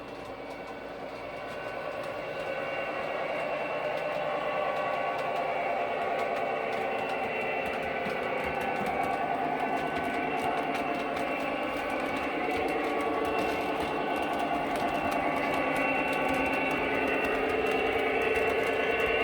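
An O gauge model train runs steadily on a layout, with a continuous whirring motor hum and rhythmic clicking over track joints, close and even in level throughout.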